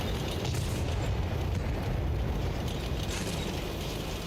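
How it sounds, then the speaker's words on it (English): Fast-firing artillery in a tank game, a dense continuous low rumble of booms and bursts running steadily throughout at an even level, with no talk over it. "Oh, hello, artillery. That is a fast-firing artillery,"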